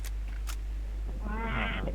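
A cat gives a single drawn-out meow near the end, close and moderately loud over a steady low hum, with a few faint clicks before it.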